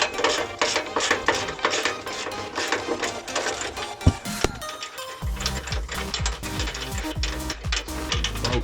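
A socket ratchet undoing the 17mm exhaust midsection bolts on a VW Golf GTi 16v clicks rapidly and steadily up close, with a short pause midway before the clicking resumes.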